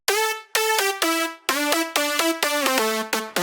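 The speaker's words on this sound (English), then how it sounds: "I added a high pass filter to each lead at around 140 Hz" Bright, buzzy synth leads with the low end trimmed by a high-pass filter around 140 Hz play a choppy melody of short plucked notes and quick rhythmic stabs, clean and upfront with no voices.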